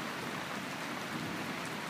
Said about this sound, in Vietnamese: Đây là cảnh trời mưa vào ngày Chủ nhật.